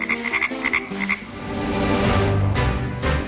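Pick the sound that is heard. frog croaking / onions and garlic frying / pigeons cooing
frog croaking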